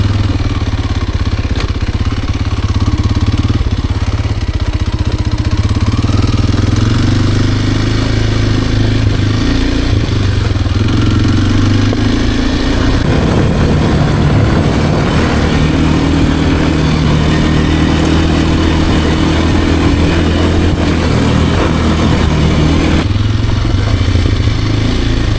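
A Kawasaki KLX230R dirt bike engine runs continuously while being ridden, loud and close throughout, its pitch rising and falling with throttle changes over a steady rumble.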